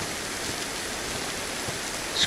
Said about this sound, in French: Et là, il y a la pluie.